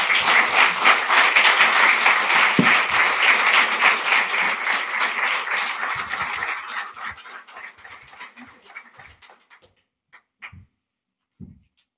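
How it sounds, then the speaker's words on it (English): Audience applause for a speaker at a Canadian Club talk, a full crowd clapping strongly for several seconds before thinning out into scattered claps and a few last isolated ones, then quiet. "Round of applause for our speaker."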